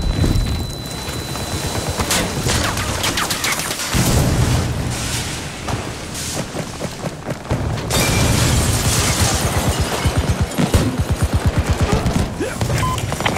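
Heavy gunfire crackles in dense bursts through a Battlefield 2042 firefight, with booming blasts from a thrown grenade and other explosions punctuating the steady barrage, loud and close throughout.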